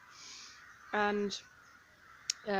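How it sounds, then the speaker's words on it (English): Crows building nests at a church give two loud, harsh caws about a second and a half apart, close by, with a faint voice starting at the end. "That's just crows house building."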